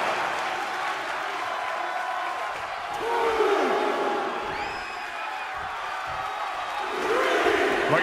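A virtual arena crowd in a WWE 2K24 wrestling match roars and cheers throughout, swelling in bursts, with a commentator's voice and game sounds layered over the noise.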